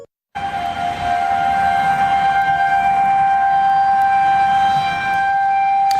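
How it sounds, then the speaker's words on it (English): Outdoor tornado warning sirens in Jackson, Missouri during dangerous storms, starting abruptly after a brief silence and then holding a loud, steady wailing tone for several seconds. "Tornado sirens warning of dangerous storms"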